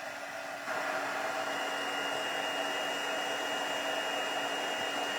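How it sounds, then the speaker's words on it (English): Heat tool blowing hot air onto a torn paper strip background, a steady loud whoosh that steps up slightly in strength shortly after starting and then holds constant. "And then I just slide my heat tool up the word."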